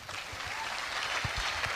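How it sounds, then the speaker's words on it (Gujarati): An audience claps together at a Q&A motivational talk by Sanjay Raval, a steady crowd applause with a few louder individual claps near the front, continuous throughout. "દરેક પ્રશ્ન તાળીઓ પડે છે."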